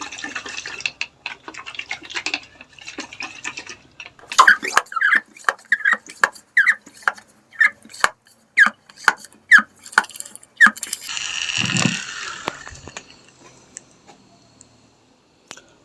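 Dry maggot-rearing media being shaken to mix inside a container: about a dozen regular, rhythmic rattling shakes that are close and fairly loud, followed by a longer rushing shuffle that fades out.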